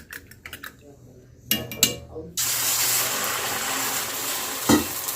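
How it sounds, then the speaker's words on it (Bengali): Two beaten eggs sizzle steadily in a pan after a few light taps and stirring clatters; the hiss starts abruptly and stays loud and even, with a brief knock near the end. "আর এদিকে হবে এখন ডিম ভাজা"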